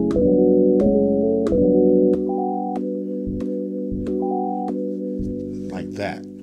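A rearranged, chopped sample loop from a Cymatics pack plays back on an MPC Live 2: sustained chords cut into stuttering, repeating segments with sharp edits, loud and upfront, with a brief noisy swell near the end.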